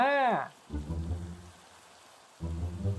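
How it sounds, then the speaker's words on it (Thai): Rain falls in a Minecraft hardcore survival world as night comes on, a soft steady wash through the whole clip behind a short tonal in-game sound at the start and two low rumbling bursts. "เอ้าฝนตกมันมืด"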